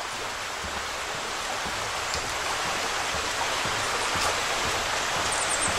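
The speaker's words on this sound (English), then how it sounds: "This is a beautiful creek." A creek flows beside a covered bridge in Pennsylvania, giving a steady, full rushing of water that stays even and close throughout, with no voices.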